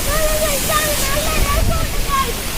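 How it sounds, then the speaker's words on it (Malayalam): A waterfall pours in a steady, loud broadband rush close by on a rainy day, with faint voices mixed in beneath the roar. "നമ്മളിപ്പോ ഇരിക്കുന്നത് ഒരു വെള്ളച്ചാട്ടത്തിലാണ്"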